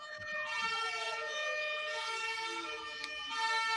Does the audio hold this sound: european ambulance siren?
yes